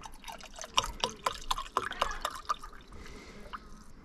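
Antifreeze being poured into a solar electric boat's cooling system: irregular gurgling drips and splashes, close and fairly faint, thinning into a softer trickle toward the end.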